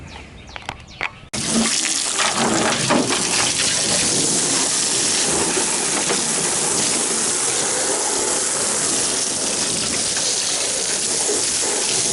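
Water gushes and splashes steadily as the interior of a Jeep Wrangler YJ is hosed out, a loud continuous rush starting abruptly after a brief quieter moment.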